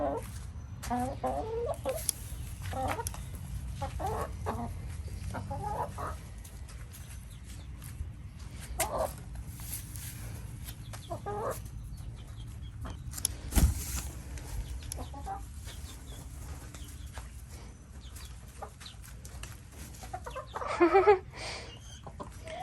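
Chickens cluck on and off at close range over a low steady background hum, with a brief louder squawk near the end.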